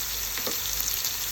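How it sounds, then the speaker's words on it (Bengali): Paneer pieces frying in oil give a steady, close sizzle with a faint crackle throughout the short stretch, and no voices can be heard. "পনিরগুলোকে এখন ভেজে নিবে তেলে।"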